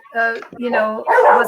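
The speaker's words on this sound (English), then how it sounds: "So I apologize for the barking Aussie in the background" An Australian Shepherd barks and yips in the background, several short loud vocal bursts in quick succession over about a second and a half.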